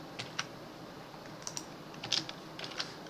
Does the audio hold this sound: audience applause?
no